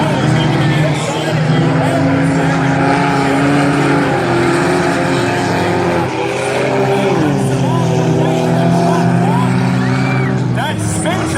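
Four-cylinder class race cars roar around an oval track at Valley Raceway, several engines droning loudly and continuously with shifting pitch as they battle side by side, while an announcer talks over them.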